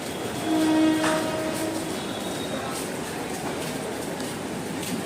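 Mumbai local train standing at a busy station platform, with a steady broad rumble throughout and a brief two-tone horn sounding early, continuous and moderately near with no clear speech.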